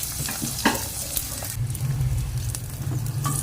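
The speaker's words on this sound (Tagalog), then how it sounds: "Iprito na natin yan" Parrot fish fries in a pan of hot oil, giving a loud, busy sizzle and spitting crackle that grows denser partway through, with no speech.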